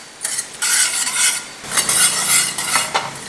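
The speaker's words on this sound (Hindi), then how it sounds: "इसी के साथ जो प्याज हमने रखे हैं उसे भी हम चलाते जाएंगे।" Coriander, cumin and onions dry-roast in a kadai for paneer, stirred with a utensil in loud rhythmic scraping strokes over a light sizzle, close and without talk.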